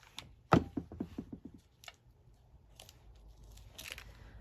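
Scissors snip off lace ribbon from a bow on a glassine bag for a junk journal, with one sharp close cut followed by a few softer snips and small rustles.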